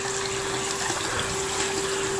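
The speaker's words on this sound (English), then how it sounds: "I put warm water in the unit" Warm water running steadily into a gold extraction unit during final cleanup of screened paydirt, a continuous close hiss of flowing water with a faint steady hum beneath it.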